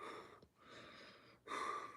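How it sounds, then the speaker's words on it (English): A sprinter crouched in the starting blocks takes deep, slow breaths before a race: three close, airy breaths with short pauses between, the last one strongest, with no talking. "breathing, getting ready"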